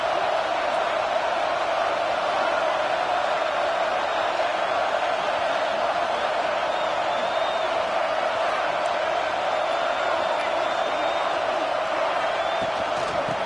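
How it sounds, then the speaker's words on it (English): A football stadium crowd roars in a steady, full-throated wall of noise that holds without a break from start to finish, loud and dense, with faint whistles and shouts riding on top. "This crowd, full throat, splitting the eardrums and letting them know it's going to be a long day"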